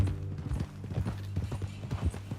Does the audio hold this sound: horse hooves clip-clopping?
yes